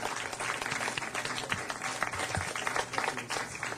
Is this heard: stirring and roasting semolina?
no